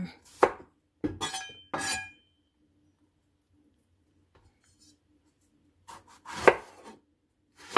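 A knife chops eggplant on a cutting board in a home kitchen, giving short clusters of sharp, close taps with silent pauses between them, plus a final burst of cuts near the end.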